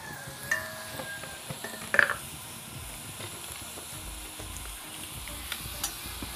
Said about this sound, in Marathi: तर हे आपलं गोल्डन ब्राऊन झालेलं आहे कांदा, त्यात आता आपण लाल तिखट घालून घेऊ.